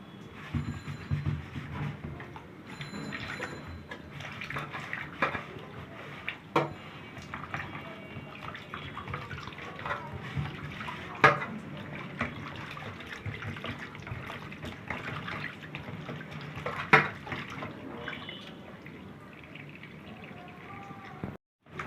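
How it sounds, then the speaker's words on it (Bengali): Fish being rinsed under hot running tap water in a kitchen sink, a steady broadband splashing flow that runs throughout with occasional louder knocks and splashes, no talking. "গরম জল দিয়ে এইভাবে মাছগুলো ধুয়ে নেবেন"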